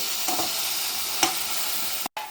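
Onion and chopped tomato fry with a splash of water in a pan for a chicken curry, giving a steady soft sizzle with a couple of brief stirring scrapes and a short dropout near the end.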